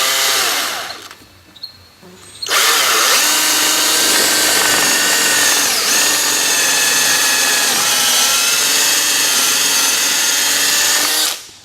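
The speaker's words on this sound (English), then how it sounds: "and just drill your hole" A power drill whirs loudly and steadily for several seconds after a brief start, close by and alone, drilling a hole for a carriage bolt in a chicken tractor.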